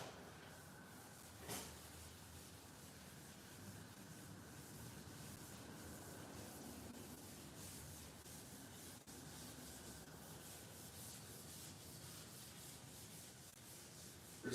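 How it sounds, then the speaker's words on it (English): Steady, faint rasping of clear coat being sanded with a hard sanding block, a continuous back-and-forth rub with a single sharper knock early on and no talking. "All right, let's get this thing sanded."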